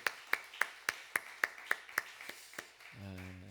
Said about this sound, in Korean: 우리 감사하다고 섬긴 거 우리 박수 한번 해주세요.